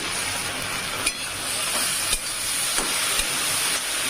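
Okra and tomato fry in a pan with a steady, close sizzling hiss, broken now and then by soft clinks and scrapes from stirring.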